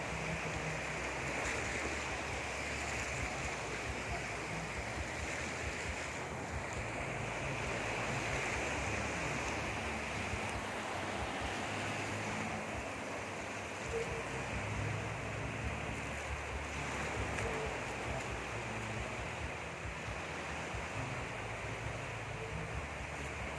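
Sea surf rolls steadily onto the beach at a baywalk resort, a constant broad wash of breaking waves mixed with wind buffeting the microphone, and no voices.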